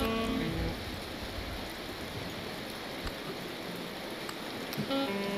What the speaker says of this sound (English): Oh, and now there's hail back again.